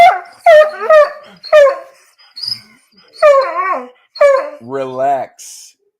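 A dog barks in short, loud, close yips and bow-wows, a quick burst followed by several more barks and a whining, whimpering yelp, heard alone with no talk.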